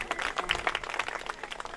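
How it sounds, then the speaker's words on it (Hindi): An audience claps together during a Shrimad Bhagavat Katha religious discourse, producing a dense, steady patter of many hands that lasts the whole moment without talk. "तालियां बजा दे"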